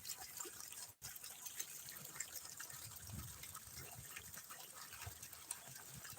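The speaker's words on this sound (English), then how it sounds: "Here, there's a little waterfall." A small waterfall trickles steadily into a pond with lily pads and goldfish, a soft continuous wash of water heard faintly from nearby with no talking.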